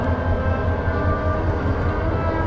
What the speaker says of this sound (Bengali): আমরা যে ট্রেনে করে আসছি সেই ট্রেনটা এখন ছেড়ে দিচ্ছে